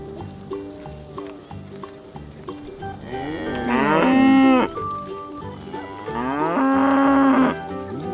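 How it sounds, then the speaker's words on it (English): Two loud, drawn-out moos from a Fisher-Price farm barn toy cow ring out over cheerful background music, each lasting about a second and a half. "This is a cow."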